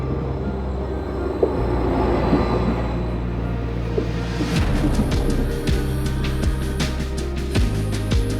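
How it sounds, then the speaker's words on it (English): A passenger train pulls into a station in the Netherlands, its steady low rumble and wheel noise building from about halfway as the cars roll in close by, with no talk over it. "The train has arrived."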